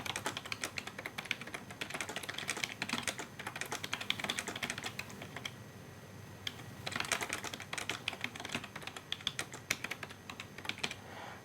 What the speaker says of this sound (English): I'm usually a much better typer than this.